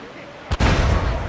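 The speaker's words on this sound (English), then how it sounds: "Mortar! Down they go!" A single sharp mortar blast in Assassin's Creed Freedom Cry, a short crack followed by a loud, sustained rumbling boom close by.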